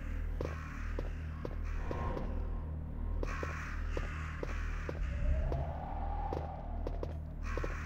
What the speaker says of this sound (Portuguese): Tem um corvo aqui no chão.